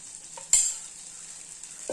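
An instant rava vegetable bun dosa fries in a pan with a constant close hiss of sizzling oil, punctuated by one sharp knock of a utensil and a faint clatter at the end.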